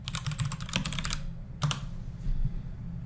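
Rapid clicky typing on a computer keyboard, a quick burst of keystrokes followed by a pause and a couple of isolated key presses, close and fairly quiet with a low hum underneath.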